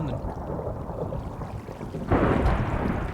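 A video-game thunderstorm rumbles with a low, steady wash of rain and wind, then swells into a louder roll of thunder partway through.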